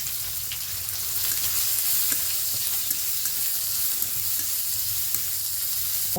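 Chopped onion and garlic fry in a hot pan for a tomato dish, giving a steady, close sizzle. Light scrapes of stirring sound now and then, with no voices.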